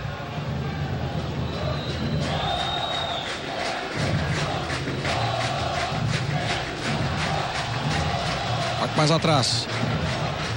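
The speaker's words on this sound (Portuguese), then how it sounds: "protesto da torcida do Vasco" Vasco fans protest in the stands during a 2012 Brazilian league match against Bahia, a steady crowd roar and chanting filling the stadium beneath a commentator's continuous talk.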